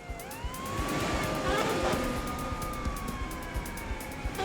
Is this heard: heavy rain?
no